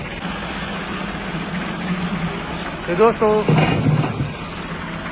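A tractor engine idles on a farm in Punjab with a low, steady rumble under the scene, while someone talks over it for a moment.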